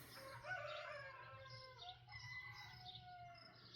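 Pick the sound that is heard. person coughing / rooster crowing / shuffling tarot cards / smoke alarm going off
rooster crowing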